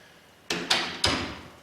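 Interior door being closed while a door stop strip is fitted to its frame: three sharp impacts, the last two close together and ringing briefly, loud and near with no talk.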